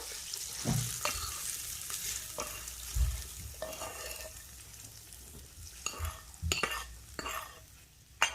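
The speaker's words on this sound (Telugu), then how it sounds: "2 ఎండుమిర్చి, వేస్తున్నానండి తిరగమాత." Dried red chillies sizzle in hot tempering oil for a tomato and red chilli pickle, with a steady soft frying hiss broken by scraping stirs and occasional louder pops and clinks, close by.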